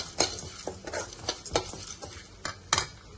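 Spices being fried for bitter gourd spice powder, a spoon stirring and scraping the pan in quick, uneven strokes with a light sizzle underneath, fairly quiet and close, with no voices.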